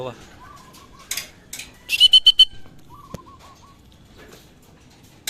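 Racing pigeons in a loft during training, with a few soft low coos and brief whistling bird calls in short bursts, a sharp click, and a person moving about nearby.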